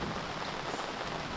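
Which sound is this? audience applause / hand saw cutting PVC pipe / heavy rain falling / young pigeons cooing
heavy rain falling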